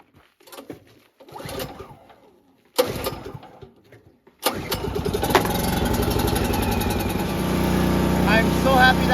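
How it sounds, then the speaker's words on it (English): A cabin generator that has sat unused since the fall cranks with a couple of short pulls, then catches and settles into a loud, continuous running drone; birds coo faintly before it starts. "I will see if I can get the generator to fire up."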